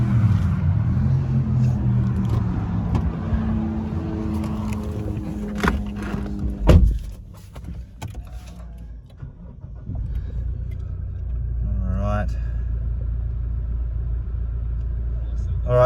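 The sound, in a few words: 2016 Toyota Prado GXL engine starting and idling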